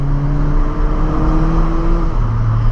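A car's engine pulls hard on a winding road, a loud close drone whose pitch climbs steadily as it accelerates, dipping briefly before resuming, with no speech.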